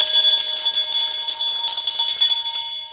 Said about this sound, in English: We got to ring the other bell.